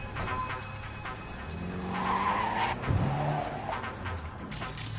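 A summoned car pulls up in Cyberpunk 2077, tires skidding and squealing as it brakes to a stop, moderately loud over the engine with a brief rising screech near the middle.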